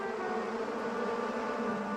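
A steady, faint buzzing drone of bees continues throughout, with no voices.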